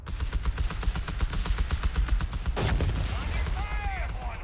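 Rapid string of gunshots in Company of Heroes 3 during a 2v2 battle with a sniper firing, sharp repeated cracks in a steady burst, followed by a whooshing impact and a brief whistling tone.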